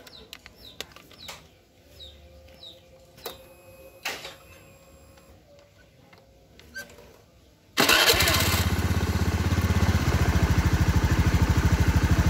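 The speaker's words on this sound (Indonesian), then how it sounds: "saya pelintir gasnya, apakah ada suara sak-saknya lagi atau tidak" A Honda Beat FI scooter with a rattling fault is heard as quiet background noise and scattered clicks, then its engine suddenly roars up as the throttle is twisted, holding a loud, steady buzzing rev to the end.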